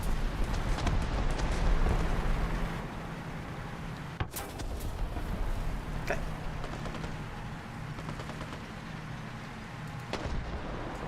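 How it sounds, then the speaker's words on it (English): Machine gun fire in War Thunder cracks in sharp, scattered bursts over a low rumble of battle. The shots sound moderately close, with a few louder hits standing out. "Will you quit shooting me with your MG?"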